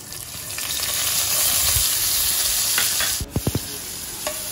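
Cumin seeds and green chilies sizzle steadily in three tablespoons of hot ghee, a dense close crackle that briefly drops out near the end before a few sharp stirring knocks and taps from the pan return.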